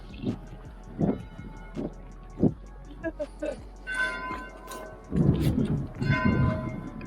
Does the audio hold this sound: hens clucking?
no